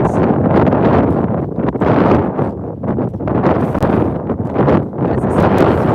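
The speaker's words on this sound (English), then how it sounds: "it's rather windy today" Strong gusts buffet the microphone in loud, rough rumbling waves that swell and ease continuously, drowning out everything else.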